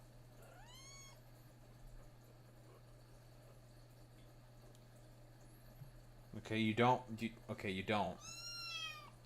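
A pet cat meows a few times, a short rising meow near the start and more meows toward the end, close and fairly clear. A person talks softly at the same time.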